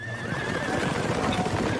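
Horses galloping on a prairie in a children's cartoon, a steady drum of hooves with a clear high neigh rising above them, loud and close, with no voices.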